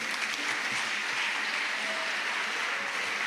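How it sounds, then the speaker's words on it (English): A lecture audience claps for a guest, a steady wash of many hands from start to finish at moderate distance with no pauses. "Can we have claps for our friend?"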